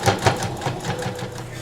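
A sewing machine tacks down the wide trim edge bound in bias tape on a fabric garment, stitching in a steady, close, rapid run with faint rhythmic pulses throughout.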